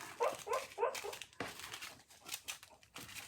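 Soft, high whimpers and little yips from a pit bull dreaming in a quiet room, coming in short bursts with rustling in between.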